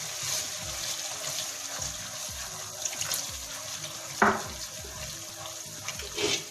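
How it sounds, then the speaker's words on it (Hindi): Water pours steadily into a cooking pot of chickpea masala with a continuous splashing trickle, close by, and a few clinks of metal along the way. "थोड़ा सा इसके अंदर पानी डालेंगे"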